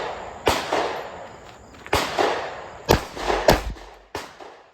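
Rapid revolver shots firing 158-grain rounds, six sharp loud cracks in quick irregular succession, each trailing into a brief decaying echo.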